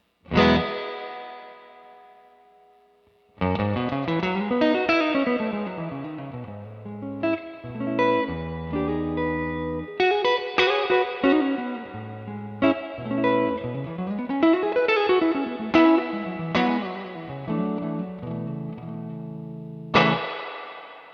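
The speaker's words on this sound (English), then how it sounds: "right now I've got it on the spring reverb, and it's on the first model of the spring reverb, which is more like a Blackface Deluxe" An electric guitar played through a Universal Audio pedal's spring reverb, set to its Blackface Deluxe model, rings out in chords and arpeggiated phrases with a lush, splashy tail, following a brief silent start.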